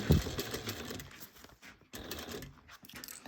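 A sewing machine runs in short bursts, stitching a bag seam at a slightly larger seam allowance, with quick mechanical whirring broken by brief pauses, fairly quiet and close.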